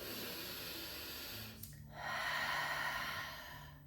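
Slow, deep breaths during a breathing exercise. A long airy exhale is followed by a brief pause, then a fuller breath close to the microphone with no talking.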